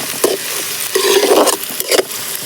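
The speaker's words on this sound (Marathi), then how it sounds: "आता तेल तापलेलं आहे तर आपण आता ह्यामध्ये कांदा टाकून घेऊ" Chopped onion fries and sizzles in hot oil in a pan over a village wood-fired clay stove, with a steady hiss broken by several scraping stirs of a spoon, close up and with no talk.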